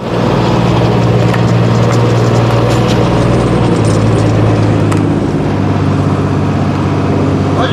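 DI 35 tractor driving an 8-foot rotavator through soil in a field, a loud steady diesel drone with continuous mechanical churning, close and unbroken throughout.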